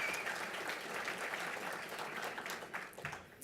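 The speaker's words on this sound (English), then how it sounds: "This is going to take a while if you applaud like that after every table" Audience at a Heartland Institute benefit dinner applauding, a dense steady patter of many hands clapping that thins out toward the end.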